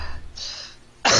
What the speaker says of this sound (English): Oh god, I coughed some.